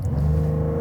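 A base Porsche 911 in sport mode gives a brief, moderately loud engine note around 4,000 RPM, with a steady rumble and a faint rising tone.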